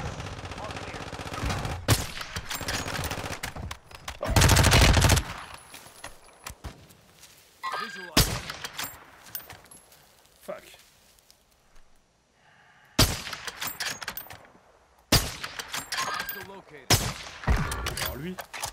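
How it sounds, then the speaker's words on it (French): Gunfire in a video game: bursts of loud shots come in clusters separated by quieter gaps, with an especially heavy stretch near the middle and more volleys toward the end. "J'ai tiré un chouïa au-dessus de la tête."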